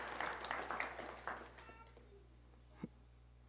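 A family claps for an officer at a Louisville Metro Police promotion ceremony. The clapping is faint and scattered, thins out after about a second and a half, and ends with a few isolated claps.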